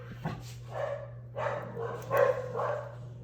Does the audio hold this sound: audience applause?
no